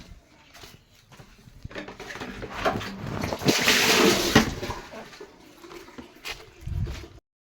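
Water pours and splashes into a bucket outdoors, a fluctuating gurgling rush that swells to a louder, steadier flow midway and then tapers off, fairly faint overall.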